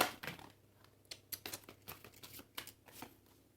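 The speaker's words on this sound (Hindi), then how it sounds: "This is my last shuffle." Tarot cards being shuffled by hand, a quick run of soft papery riffles and crinkles in short irregular bursts, close and fairly quiet, with no talk.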